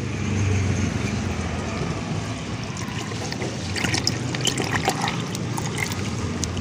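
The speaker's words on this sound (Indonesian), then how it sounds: "Jadi kita masukkan dulu airnya." About 550 ml of water poured into a flour batter mixture for malor, a steady close trickle and splash that continues throughout.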